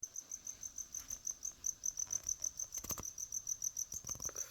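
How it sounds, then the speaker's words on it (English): Crickets chirp loudly and steadily in a fast pulsing rhythm, close by and alone, with a few faint knocks in the background. "crickets are loud as a motherfucker, dog."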